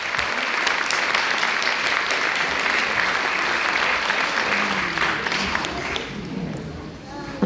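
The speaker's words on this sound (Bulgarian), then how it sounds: "Моля, аплодисменти." Audience at a 2024 Christmas celebration applauds after a dwarves' dance with Santa Claus, a thick, sustained clapping of many hands that thins out near the end, with voices mixed in underneath.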